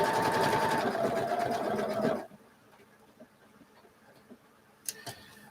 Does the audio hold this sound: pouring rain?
no